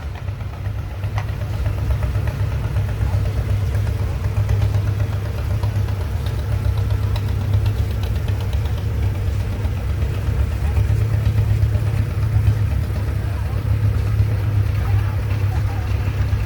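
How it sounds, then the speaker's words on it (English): A 1930 Farmall Regular antique tractor runs in a parade at Georgetown, giving a steady low engine drone that holds at moderate loudness throughout without change in pace. "1930 Farmall Regular, owned by Dustin Yockey out of Winchester"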